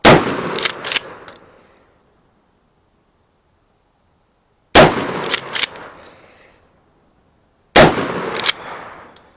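Shotgun blasts outdoors from a Mossberg Shockwave or Remington TAC 14, three loud single shots spaced a few seconds apart, each with a quick echo and a fading tail into silence.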